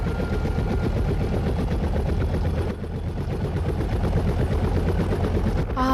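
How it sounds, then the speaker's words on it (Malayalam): A cartoon helicopter sound effect for an animated comedy, a loud, steady rapid rotor chop thudding continuously throughout, close and unbroken with a brief dip midway. "മേനോൻ സാറിന്റെ അടുത്ത ലക്ഷ്യം അമേരിക്കൻ ഹെലികോപ്റ്റർ ആണെന്ന് തോന്നുന്നു."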